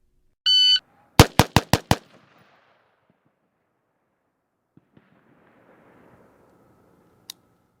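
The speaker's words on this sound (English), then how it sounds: "shooters will fire 5 rounds rapidly to center of mass in 2 seconds" Five rapid, sharp rounds from an M4 rifle crack in quick even succession, loud and close, after a brief electronic beep, then fading into quiet with a faint single click later.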